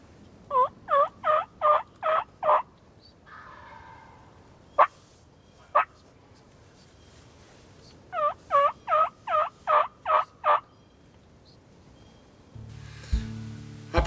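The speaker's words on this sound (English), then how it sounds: "Everything I throw to him, he gobbles at." A lone wild turkey gobbler on a ridge gobbles in two rapid bursts of about half a dozen loud, rattling calls each, with a couple of single calls between them and a thump near the end.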